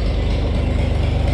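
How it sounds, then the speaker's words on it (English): A steady, rumbling gasoline engine of a Farmall 560 tractor idles close by, its low chugging pulse constant throughout with no other sounds. "don't know how well you'll hear me over the tractor right now"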